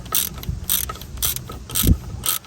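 A ratchet wrench backs a 13 mm bolt out of a Ford F-150 steering shaft, five evenly spaced bursts of rapid clicking with a dull thump between strokes, close and clear.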